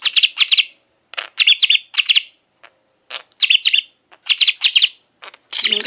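A pet budgie chirps and chatters in close, quick bursts of bright tweets separated by short pauses, loud and alone with no talk.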